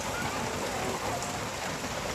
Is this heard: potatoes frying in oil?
no